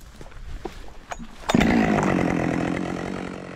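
A Husqvarna 572 X chainsaw cuts wood in cold weather, with a few faint knocks before the engine bursts to full throttle and holds a loud, steady, buzzing roar through the cut.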